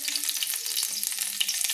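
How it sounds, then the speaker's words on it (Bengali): Finely chopped green chillies hit hot oil for a Bengali potato bhorta, giving a close, steady crackling sizzle with dense spitting pops throughout. "এই গরম তেলে আমি দিয়ে দিচ্ছি 2টো কাঁচা লঙ্কা কুচিয়ে রেখেছিলাম"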